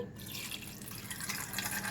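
Hot water poured over blackened brass gas stove burners in a container, a close trickling and splashing stream that runs steadily for about two seconds without speech.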